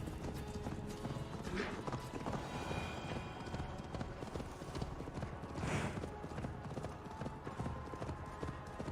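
Steady clip-clop of horse hooves while riding in a video game, a continuous rhythmic trot that runs the whole time over a busy game soundscape, with a brief whinny-like burst partway through.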